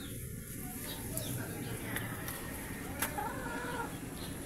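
Backyard chickens cluck and call over a steady background hiss as they wait for feed, occasional sharper calls standing out, no talking.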